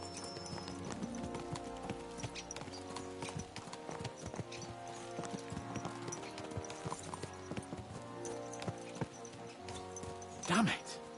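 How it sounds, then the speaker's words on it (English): Horses clip-clop at a steady pace in Kingdom Come Deliverance 2, hooves beating rhythmically over a medieval setting under music and talk, with a brief whinny near the end. "Let's really spur these horses on, eh?"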